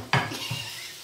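Egg cooking in a pan: a brief metallic scrape and clink of a utensil against the pan over a soft sizzle, close and alone.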